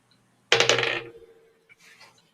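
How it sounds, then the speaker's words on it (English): A 20-sided die is rolled during a tabletop Dungeons & Dragons game, landing with a sudden bright clatter that rattles and settles over about half a second, followed by a faint second tumble, in an otherwise quiet room. "Did you roll your 20-sided dice first?"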